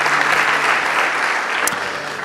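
A church congregation claps to the Lord during a Spanish-language service, loud dense applause filling the space with no break.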